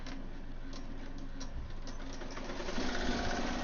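An embroidery machine stitching a floppy beach hat at 1,000 stitches per minute: a steady, fast mechanical chatter of needle strikes with a low motor hum underneath, close and fairly quiet, no talking.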